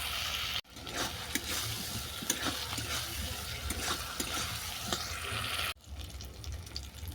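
Potatoes and pointed gourd fry in an oily spice paste with tomato puree, giving a steady close sizzle broken by scraping spatula strokes and occasional brief pauses.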